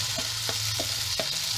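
Beef and onions frying in a pot are stirred. A steady close sizzle runs throughout, broken by four quick spoon scrapes at fairly even intervals.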